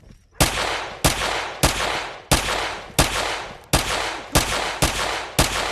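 Eight evenly spaced, loud single gunshots in a video game, each a sharp crack with a short ringing tail, about two thirds of a second apart, with no one talking.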